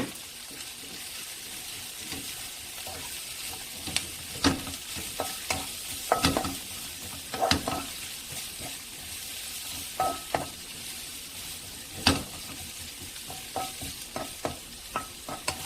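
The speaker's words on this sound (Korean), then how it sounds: "센 불에서 먼저 양파가 어느 정도 볶아지면 다져준 대파와 당근도 넣고 함께 볶아주세요" Onion, chopped green onion and carrot stir-fried over high heat for a sweet potato stem side dish: a steady sizzle under repeated clattering stirs and scrapes of the utensil against the pan, irregular and close.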